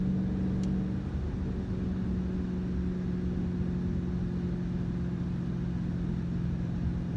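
A 2014 Shelby GT500 drives on a run, its engine a steady, loud low rumble with a constant droning tone throughout and no talk.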